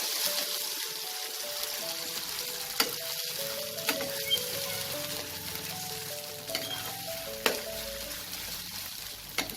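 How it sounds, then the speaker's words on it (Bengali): Flat bean paste is stirred and fried in oil, giving a steady close sizzle with scattered spoon scrapes and clicks against the pan, and no voices. "এটাকে আমি নাড়াচাড়া করবো তেলে ভালো করে।"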